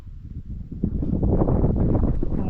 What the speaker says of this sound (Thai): ลมครับ